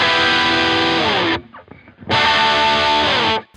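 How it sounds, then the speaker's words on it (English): Electric guitar played through an overdrive distortion pedal, two loud sustained crunchy chords ringing out, separated by a brief muted gap with scratchy string noise, the second chord held before stopping abruptly. "Now this is just number 2, which is the overdrive distortion."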